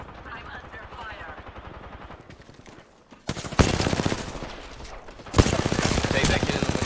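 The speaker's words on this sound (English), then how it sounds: "I'm under fire." Rapid automatic gunfire fills a multiplayer shooter video game, with dense bursts that start quiet and distant, then turn loud and close, with a heavy crack partway through and a steady rattle after it.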